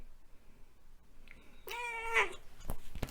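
A pet cat gives one clear, close meow that rises and falls, followed by faint rustling and soft handling noises nearby.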